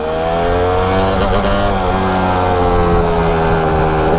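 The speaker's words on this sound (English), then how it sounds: "I actually really like the sound of this bike. It sounds a lot better than a four-stroke to me." A Kawasaki KX250 two-stroke dirt bike engine warms up on a cold day after flooding, idling steadily with a buzzy, harmonic-rich drone and a brief rise in revs near the start, close and loud throughout with no talk.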